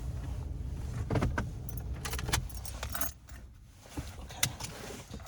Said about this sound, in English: I'm gonna leave my keys in here.